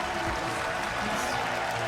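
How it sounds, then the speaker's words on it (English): Arena crowd at the 2015 League of Legends World Championship, LGD vs TSM, applauding for Dyrus; a dense, steady wash of clapping and crowd noise filling the whole moment at moderate loudness. "And there's the applause for Dyrus."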